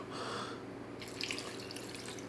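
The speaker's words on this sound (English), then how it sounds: "I'm going to add Chateau H2O," Tap water poured into a soup pot, a soft splashing stream heard close but quietly, shifting in tone partway through as the pot fills.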